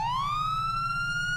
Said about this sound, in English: I will now be showing off the LSPD Sirens that are within the server.